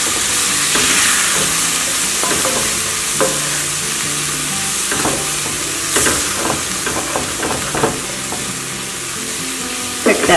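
Vegetable pot pie filling with flour added sizzles loudly in a pan while a utensil stirs it, scraping and clinking in irregular bursts over the constant frying hiss.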